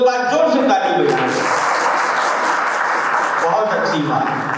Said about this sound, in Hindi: सब लोग एक बार जोर से ताली बजाएं।